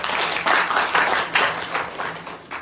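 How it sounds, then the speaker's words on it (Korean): An audience at a lecture on regional labor-management partnership claps for a professor, a dense, steady round of applause filling the room with no voices over it. "일단 수고해 주신 교수님께 박수를 좀"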